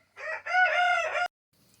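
A rooster near a farmyard henhouse lets out one close, loud crow in a rising and then held cock-a-doodle-doo, cut off abruptly, with near silence after.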